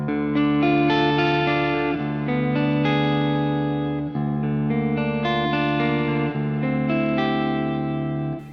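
A clean electric guitar on the neck pickup with the volume rolled down, played through a plexi-style amp and a PRS pedal, rings out warm arpeggiated chords and sustained notes in a steady flowing pattern, with no talking.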